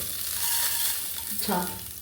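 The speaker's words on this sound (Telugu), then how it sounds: "నూనెలో తాలింపు కొంచెం" Hot oil sizzles with a bright, hissing crackle as tempering spices hit the pan for sambar; a brief voice murmurs near the end.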